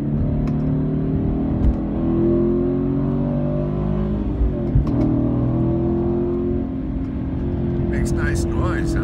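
A 2016 Chevy Camaro SS V8 revs loudly and steadily for about nine seconds, its deep harmonics sweeping up and down through several throttle blips, close by, with no talk over it.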